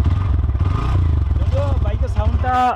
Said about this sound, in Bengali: যদিও বাইকের সাউন্ডটা 2 রকম, একটা হচ্ছে গাড়ি স্টার্ট থাকাকালীন এবং গাড়ি যখন চলবে তখন সাউন্ডটা ভিন্ন হয়।